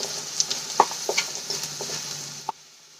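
Vegetables sauté in a pan for a Maggi noodle snack, giving a steady close sizzle with scattered light clinks and stirring taps, which stops abruptly near the end.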